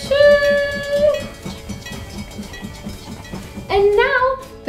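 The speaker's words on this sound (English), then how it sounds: "the car is gonna wait and the train's gonna cross" A toy train's whistle toots, then a steady rhythmic clacking runs underneath before a second whistle blast, close by.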